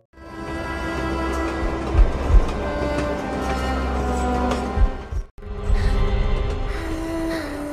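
A train rolls steadily along the rails with a continuous low rumble and metallic clatter, loud and close, with a few heavier thumps and a brief break before the rolling resumes.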